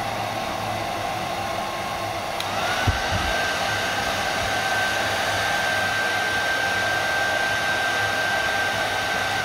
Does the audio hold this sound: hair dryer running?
yes